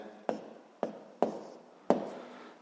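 A capital letter T is written on a board: four sharp, separate strokes of marker or chalk, each a quick attack that fades. They sound fairly close but faint, with no talking.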